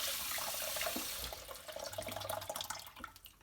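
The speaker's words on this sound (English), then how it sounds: "We're gonna wash really well like this" Mussels being washed under a running kitchen tap, with a steady broadband rush of water splashing into a sink that eases slightly partway through, close and continuous with faint clinks of shells.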